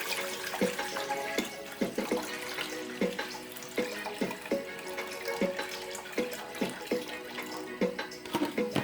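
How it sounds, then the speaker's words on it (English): Water poured into a pot of kidney beans on a stove, a steady splashing stream with irregular gurgling pulses, close and moderately loud throughout. "so now I'm going to pour some water in here."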